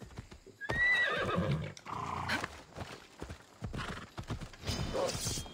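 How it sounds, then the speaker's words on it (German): Horses in Assassin's Creed Odyssey whinny loudly over a clatter of hooves, with several neighs and a steady clip-clop across the short stretch and no voices. "Pferde?"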